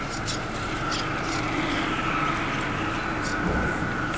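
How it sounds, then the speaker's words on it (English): Traffic rumbling over a bridge to the Missouri side, heard from underneath near cliff swallow nests, a continuous loud roar with rolling, rattling texture and a few faint chirps. "the sounds you hear are cars on the bridge"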